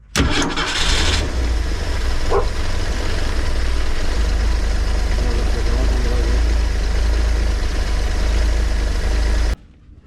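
A 1967 Ford Econoline van engine cranks briefly and catches, then settles into a steady, loud, low idle that runs close by for several seconds before cutting off abruptly.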